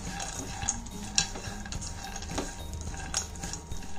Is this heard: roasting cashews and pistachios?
yes